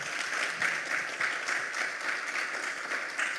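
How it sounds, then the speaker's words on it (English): An audience gives a lecture hall round of applause after a talk on diplomatic and consular representation overseas. The clapping is soft and steady, with many hands in a fairly distant, even wash and no voices over it. "another round of applause for Sonja Welch"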